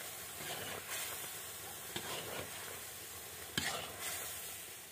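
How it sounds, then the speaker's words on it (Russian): Chakhokhbili stew being stirred in a cauldron over an open fire outdoors in a village, with a soft continuous sizzle and bubbling plus a few sharp scrapes and knocks of the spoon against the pot. "И все тщательно перемешиваем."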